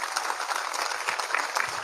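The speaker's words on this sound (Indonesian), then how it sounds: "Tepuk sing banter." Steady applause from an audience at a Maulid Nabi religious gathering, a dense wash of clapping at moderate level with no speech over it.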